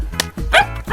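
A dog in Tanzania gives a few quick, close barks and yips packed into about a second, loud and sharp with short gaps between them.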